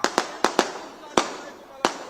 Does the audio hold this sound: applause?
no